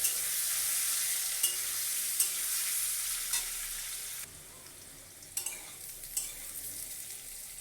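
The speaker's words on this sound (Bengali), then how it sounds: "এই পর্যায়ে দিয়ে দিচ্ছি সেই সেদ্ধ করে রাখা রসুন আর আলুটা আমি একটু ভেজে তুলে রাখবো" Boiled garlic and potato fry in hot oil with a continuous hissing sizzle that softens partway through, punctuated by occasional utensil taps against the pan.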